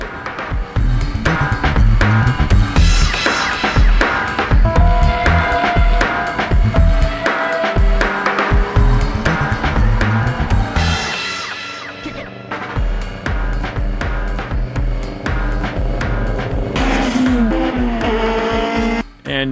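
A Nissan 350Z time attack race car engine roars continuously, revving hard up and down with gear shifts and occasional tire noise, loud and close throughout, on a road racing circuit.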